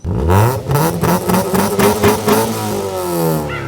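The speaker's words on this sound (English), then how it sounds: "You know I had to get this goddamn loud exhaust." A Mitsubishi Lancer engine revs hard through a loud, rumbling aftermarket exhaust, the pitch rising and falling in several bursts before settling into a steady growl.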